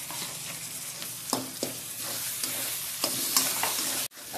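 Chopped tomatoes fry with capsicum and onion in oil for pav bhaji, a steady close sizzle broken by repeated spatula taps and scrapes on the pan, ending in a brief sudden drop.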